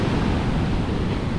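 Rough ocean surf on a stormy day at the coast of Fort Kochi, India, a loud, dense, continuous roar of breaking waves with wind noise, no voices.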